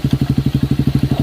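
Honda CRF150 dirt bike fitted with a Yoshimura exhaust, idling with a steady, rapid low thump of about a dozen even pulses per second, loud and close, with a slight clattering edge and no voices.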